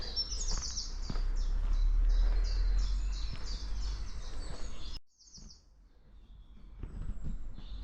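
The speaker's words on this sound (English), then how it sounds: "The birds singing." Several birds chirp and sing in quick overlapping phrases, fairly close, then pause briefly before scattered calls resume over soft outdoor background.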